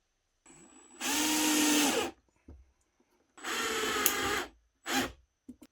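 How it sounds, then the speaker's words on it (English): A power drill whirs through a wooden cross beam for an N scale model railway signal crossing in two sustained bursts, then a short final burst, with quiet pauses and small clunks between. "which did require me to drill a couple of extra holes"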